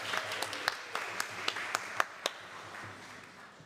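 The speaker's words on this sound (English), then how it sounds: "Yes, you can applaud them." A church congregation claps for young adults at a Flower Communion Sunday service. Scattered, uneven claps ring out in a reverberant room and fade toward the end, with faint murmuring underneath.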